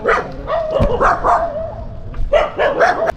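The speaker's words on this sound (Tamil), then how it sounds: "ரோட்டில் நிறையா நாய் இருக்குது." Several dogs bark on a road in the early morning, a run of repeated close, loud barks in two bursts separated by a short pause.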